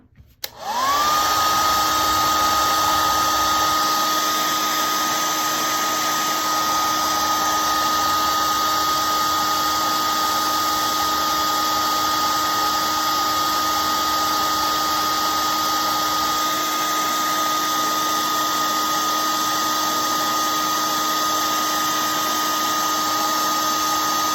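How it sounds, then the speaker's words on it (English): A hair dryer runs steadily and loudly to dry a watercolor mountainscape painting, starting with a short click and then holding an even, continuous whir with no talking. "I'm going to dry it off first"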